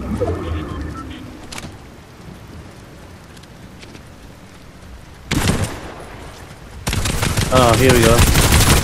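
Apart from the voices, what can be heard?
gunfire in Fortnite, from a video game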